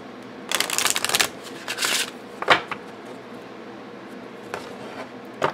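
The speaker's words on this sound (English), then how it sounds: "you can just shuffle them together" Oracle cards from a Literary Witches deck shuffled up close, with two long riffling bursts followed by a few shorter taps and flicks against a quiet background.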